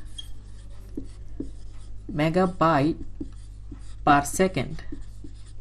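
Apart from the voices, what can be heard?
writing on a board while explaining megabits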